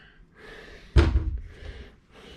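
A cabinet door in a tiny house's kitchen cabinetry bangs open with one sharp, close thud, framed by quiet room tone.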